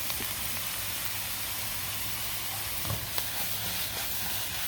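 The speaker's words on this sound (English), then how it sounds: "Throw our meat back in there, and then sauce, and we're ready to eat." Meat and sauce sizzle in a stir-fry pan on an outdoor patio cook station, a steady broadband hiss with low crackle throughout and a few brief louder spits near the end, no voices.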